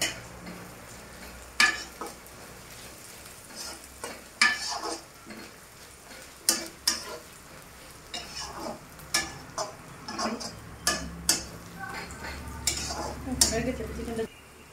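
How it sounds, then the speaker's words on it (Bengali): Onions frying in a pan until lightly browned for a chicken masala fry, with irregular stirring scrapes and utensil clicks over a soft sizzle, close by and moderately loud. "আরেকটু ভেজে নিই, বেশি ভাজবে না, সামান্য পরিমাণ ভাজবে, যাতে পেঁয়াজটা সামান্য একটু বাদামি রঙের হয়"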